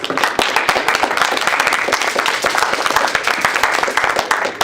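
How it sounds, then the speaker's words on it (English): Audience at a 2014 student association election debate applauds the candidates, a steady dense wash of many hands clapping close by, sustained and fairly loud throughout. "we can give a round of applause"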